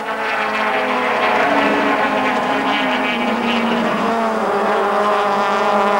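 Touring cars in the 1997 Bankfin Championship at Kyalami circuit, four running close together as they climb towards Nashua Corner, engines roaring loud and steady with rising and falling pitch throughout.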